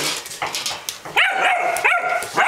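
A young puppy at its water bowl lets out a run of high whimpers, yips and short whines, close and fairly loud, with faint splashy noise underneath.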